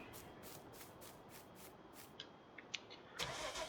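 Faint cranking and rhythmic churning of a JCB engine turning over in Farming Simulator 19, then catching and settling into a low rumble at the end.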